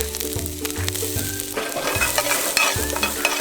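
Chopped ginger and garlic frying with whole spices such as peppercorns and star anise for a Kerala vegetable korma, a loud steady sizzle with rhythmic stirring scrapes and spoon knocks against the pan.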